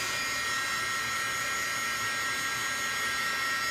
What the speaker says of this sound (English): I'm going to use my embossing gun